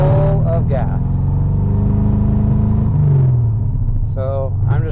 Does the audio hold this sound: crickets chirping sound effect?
no